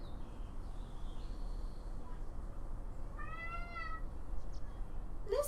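A kitten meows once, a short rising call in the middle, against a quiet indoor room with faint background hum and a brief chirp at the end.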